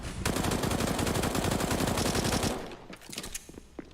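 Rapid sustained SMG automatic fire in Counter-Strike during a BIG vs. OG ESL Pro League match, loud dense bursts for about two and a half seconds, then scattered fainter shots.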